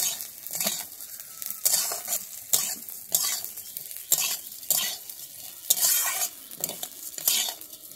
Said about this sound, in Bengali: আমি সিমাইটাকে লাল করে ভেজে নেব।